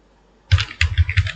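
Typing on a computer keyboard while entering text: a quick run of close, crisp keystrokes that starts after a short silence and continues in uneven bursts, with no voices.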